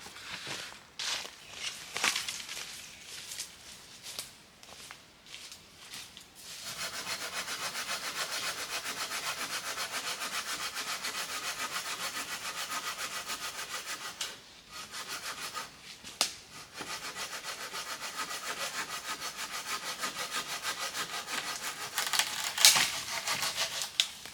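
A hand saw works through wood in a steady back-and-forth rhythm of close, rasping strokes, with pauses and a few rustles at the start and end.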